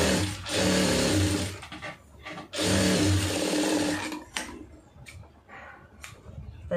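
A sewing machine stitches a cotton lining blouse in two loud, rapid whirring bursts, then a few short, softer runs and clicks as the fabric is adjusted.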